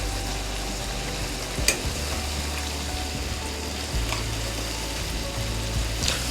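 Mixed vegetables frying in a pot as carrots go in, a soft continuous sizzle with occasional clinks and scrapes of a spoon, no talking.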